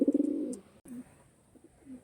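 Andhra breed pigeons coo close by, a quick series of soft throaty pulses at the start, followed by fainter scattered coos with short pauses between them.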